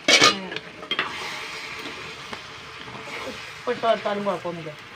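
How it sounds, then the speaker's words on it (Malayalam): Curry is stirred in a pan after turmeric powder is added, giving light scraping and a faint sizzle, while a voice speaks intermittently over it. "മഞ്ഞപ്പൊടി ഇട്ട് കൊടുക്കട്ടെ കേട്ടോ മറന്നുപോയി നേരത്തെ നന്നായി ഇളക്കുക"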